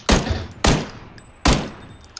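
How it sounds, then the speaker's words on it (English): Three sharp, close gunshots from a video game, each with a short decaying tail, spaced unevenly with no voices. "I'm about to open fire"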